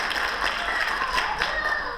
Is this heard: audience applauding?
yes